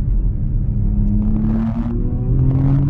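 A Porsche Macan Turbo's engine rumbles steadily and rises in pitch as it revs under acceleration on a winding road, heard loud and continuous from inside the car.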